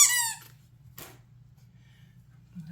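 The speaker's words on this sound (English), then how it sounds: "I got lots of these little squeaky dog toys." A small squeaky dog toy lets out a sharp, high squeak up close, followed a moment later by a second, shorter squeak, with quiet between them.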